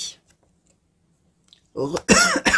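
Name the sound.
cough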